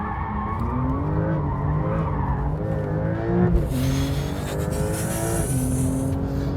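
A sports car's tyres squeal and skid loudly through a second-gear corner as the engine revs rise and shift under throttle, close and continuous, with no speech.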